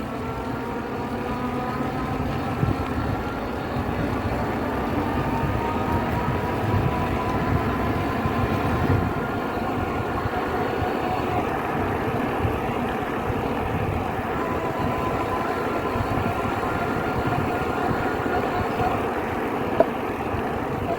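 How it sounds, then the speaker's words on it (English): A Rad Runner e-bike hub motor whines at varying pitch while riding, cutting out at its 25 km/h limit and kicking back in as speed drops, over steady road and wind noise. "As you can hear from the motor, it cuts off at 25 kilometers an hour, then back on again when it drops below 25."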